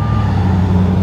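Truck reversing beeps sound steadily over rumbling construction noise behind a speaker at a site in San Diego, with a continuous low engine drone filling the background throughout the short moment.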